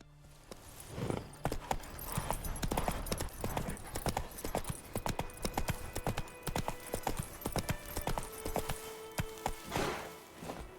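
Horse hooves clip-clopping steadily in Witcher 3, a continuous rhythmic trot of close, moderately loud hoofbeats throughout.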